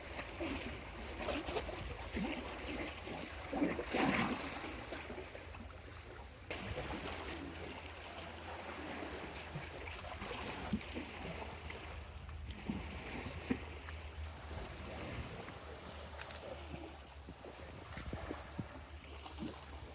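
Incoming tide water washes and laps around rocks on a beach, a faint, steady wash with small irregular splashes and trickles throughout.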